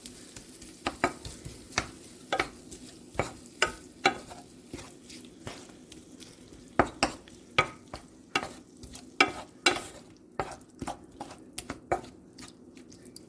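Chili sizzles gently as it heats in a pan while a spoon scrapes and stirs in repeated soft strokes, close up and fairly quiet.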